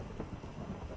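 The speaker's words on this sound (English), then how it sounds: "See that lightning coming into the cave entrance?" Thunder from lightning rumbles at a cave entrance in a video game, a short, low, muffled roll mixed with a rain-like hiss, fairly faint.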